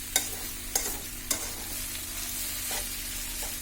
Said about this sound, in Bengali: এখন এটাকে আমি ভালোভাবে নেড়ে নিচ্ছি।